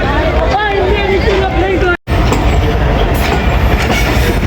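Sandal Express rolls into Shorkot Cantt Junction station, a loud, close rumble and clatter of railcars with squealing wheels, with a brief drop to silence midway and a murmur of voices beneath.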